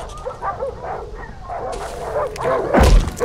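A dog in the game Darkwood barks and yips in short bursts, close and fairly loud, with a sharper bark near the end.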